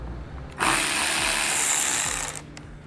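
A power tool whirs on steadily for nearly two seconds, loud and close, as it backs out a 7mm bolt during setup of a Roadmaster Direct-Connect base plate on a 2017 vehicle, then spins down and stops.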